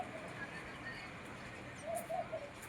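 Pigeons at a bird feeder hung in a guava tree outside a home, giving a few soft, distant coos over quiet outdoor ambience, with no talking.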